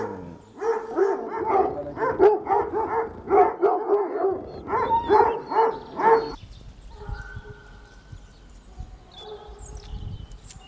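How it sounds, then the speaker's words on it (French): A pack of hunting dogs on a large estate bays and barks in a dense, overlapping chorus for about six seconds, loud and close, then falls away to faint scattered yips and background noise. "Alors, ils sortent tous là, les chiens?"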